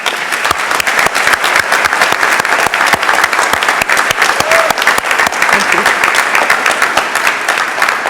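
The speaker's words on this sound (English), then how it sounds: "Would the audience please join me in a round of applause for members of our faculty and staff?" Large audience applauding for faculty and staff at a 2019 University of New England College of Pharmacy white coat ceremony, loud continuous clapping from many hands filling a hall without pause.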